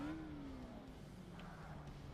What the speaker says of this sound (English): I think I just almost over-revved the shit out of my engine.